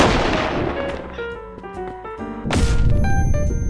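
Fireworks fired into the air in the video game Animal Company, a run of sharp pops and thumps with bright crackling bursts and ringing tones, loudest near the end.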